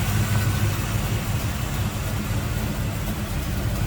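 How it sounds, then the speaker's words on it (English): A 1941 Chevrolet Super Deluxe Coupe street rod with a V8 and a Turbo Hydramatic 400 automatic idles smoothly and steadily, a close, even rumble that holds without change and without any talk. "Wow, nice smooth running V8. Sounds good."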